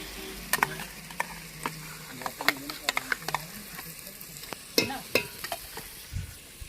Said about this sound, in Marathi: वाटण आपण थोडंसं भाजून घेऊ.